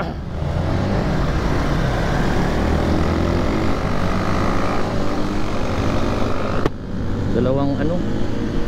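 Honda Raider motorcycle engines roar loudly and steadily close by, a continuous mechanical drone with a brief dip near the end, while someone speaks over it.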